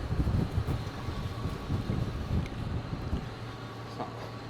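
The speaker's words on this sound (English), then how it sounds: "Don't help that it's so windy." Gusty wind buffets the microphone with a low rumbling roar that is strongest at the start and then eases off, with no voices.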